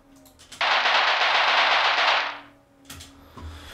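A machine gun effect in a mouse trailer: one rapid, dense burst of automatic fire lasting about two seconds, loud and close, then a few faint clicks and thumps.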